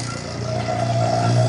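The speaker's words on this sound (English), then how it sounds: "restart the vacuum pump" Vacuum pump running steadily during epoxy degassing with acetone, a continuous loud mechanical drone with a steady hum and faint whine, close and alone.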